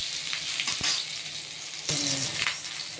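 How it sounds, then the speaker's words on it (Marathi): Amla (Indian gooseberries) frying in hot oil in a pan give a steady close sizzle throughout, with a few faint clinks and stirring scrapes mixed in. "तेल टाकल्यावर आवाज पण आला आणि असं चांगले भाजून द्यायचे"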